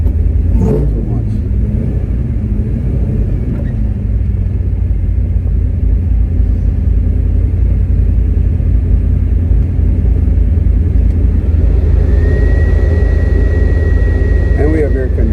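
A 1970 Chevrolet Chevelle LS6 V8 fires up after a brief hesitation and settles into a loud, deep, steady rumble close by, with people talking over it.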